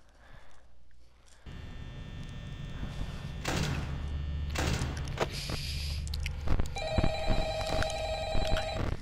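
Telephone ringing in the Five Nights at Freddy's game, preceded by a rumbling mechanical sound and thumps, then a clear repeating electronic ring near the end, moderately loud without speech.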